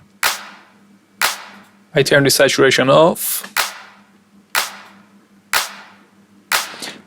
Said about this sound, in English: It is just adding more harmonics to the clap, and it is giving the clap more energy and more punch